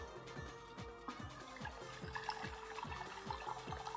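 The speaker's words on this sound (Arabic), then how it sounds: "هحط قده مقدار ميه" Hot water poured steadily into flour for bread dough, with a continuous splashing, gurgling flow and faint rhythmic knocking underneath, fairly quiet.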